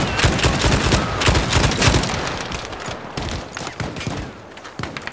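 Heavy sustained gunfire in Battlefield 5 on the Pacific front, rapid overlapping shots and bursts at close range that thin slightly toward the end.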